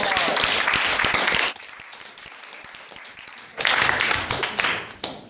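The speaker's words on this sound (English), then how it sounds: "give a round of applause" Audience applause after a cadet's speech at a JROTC public speaking session, a loud dense burst of clapping that drops to a few scattered claps, then swells again and fades.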